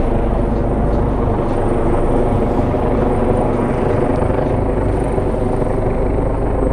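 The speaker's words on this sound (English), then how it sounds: "I think that's an orange chopper" Orange air-ambulance helicopter flying low over downtown Toronto toward a hospital, its rotor chop loud and constant throughout with street hum beneath and no talking.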